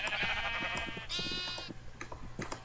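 Several sheep bleat in a blocky sandbox video game while being bred with wheat, with repeated close, wavering calls that overlap each other, and soft clicks between them. No one speaks.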